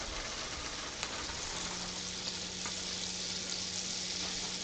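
Sliced mushrooms sizzle steadily in a soup pot, a continuous close frying hiss with faint stirring clicks and no voices.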